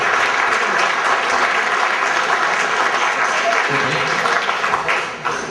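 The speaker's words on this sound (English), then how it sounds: "A warm round of applause for Ray McGovern." A church crowd at a Detroit impeachment town hall gives a speaker a warm, dense round of applause that holds steady for several seconds before starting to thin and fade at the end.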